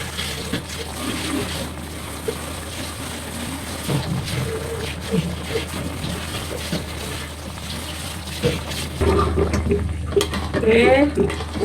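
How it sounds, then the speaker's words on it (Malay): Dishes being washed in a home kitchen while spices fry in oil on the stove for ayam ungkep: a steady, close wash of running water with clinking plates and utensils throughout, growing slightly busier toward the end. "kita basuh pinggan."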